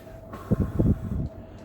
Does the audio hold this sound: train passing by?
yes